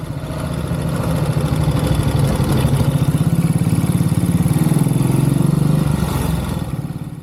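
Low-powered 13 brake horsepower motorcycle running steadily on the road, a loud, rhythmic mid-low engine thrum that swells and fades slightly, with no talk over it.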